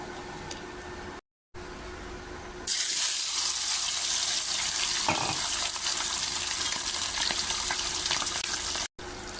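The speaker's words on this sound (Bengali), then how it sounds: "আমার মাছগুলো ভাজা হয়ে গেছে এগুলো নামিয়ে নিই বাকিগুলো দিয়ে দিব" Puti fish frying in oil, a steady loud hiss and crackle that starts abruptly and runs on continuously after a quieter opening with a brief gap.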